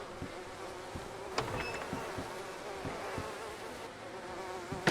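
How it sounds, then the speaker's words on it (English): Bees buzz steadily around a beehive, a continuous close insect drone with a few sharper clicks and knocks over it, and no talking. "there is bees in that one."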